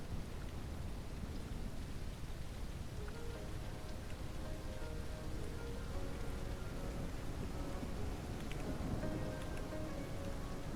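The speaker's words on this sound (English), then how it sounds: "It's starting to rain too." Steady rain with a low rumbling wash falls in the Ranch Simulator video game as night sets in, a constant even hiss that stays faint and unbroken from start to finish.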